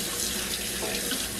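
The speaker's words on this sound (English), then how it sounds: "I'm gonna rinse them back off right quick." Kitchen tap water runs steadily into a sink as raw Cornish hens are rinsed, a loud, close, continuous splashing rush with no voices.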